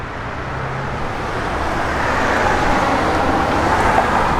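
A 1970 Plymouth Duster with a cammed 340 V8 runs with a steady low rumble that grows slightly louder and denser, close by and with no talk.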